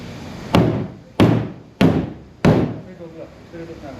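Four loud, evenly spaced thuds of a rubber mallet striking a Tiger rooftop cargo box, each hit ringing briefly through the hollow shell, with quieter handling sounds afterward.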